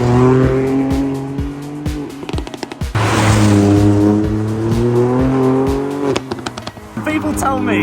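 Ford Fiesta ST MK8 with its three-cylinder engine driven hard, loud and close, revving up through the gears with rising pitch and quick drops at each shift, a brief lift near the middle, then more hard acceleration.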